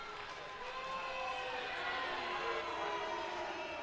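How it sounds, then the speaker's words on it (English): A race crowd roars in a steady, dense wash of distant cheering and murmur that holds level throughout, with no clear individual voices standing out. "You can hear the crowd."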